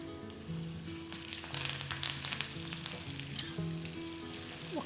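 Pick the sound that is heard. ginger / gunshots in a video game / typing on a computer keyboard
ginger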